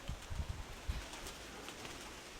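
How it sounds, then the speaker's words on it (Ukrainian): Soft, low coos of an old speckled domestic pigeon in a few short bursts near the start, then fading into quiet background noise. "Ну, це ряба стара голубочка, дивіться."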